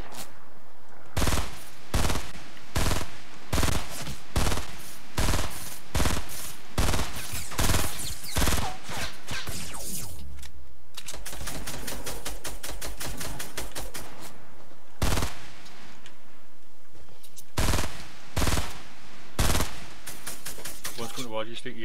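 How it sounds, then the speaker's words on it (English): Fortnite gunfire, strong rhythmic shots in steady bursts and a rapid automatic rattle midway, loud and close throughout. "someone firing at us."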